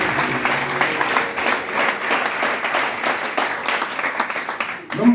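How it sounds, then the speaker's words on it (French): A church congregation at a Pentecostal seminar applauds for the Lord, dense sustained clapping from many hands, loud and close, continuous for several seconds before fading. "Acclamons pour le Seigneur"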